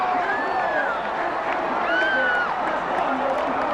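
Racetrack crowd at the Belmont Stakes applauding a horse that finished third, a dense, steady roar of clapping and cheering with an announcer talking over it throughout.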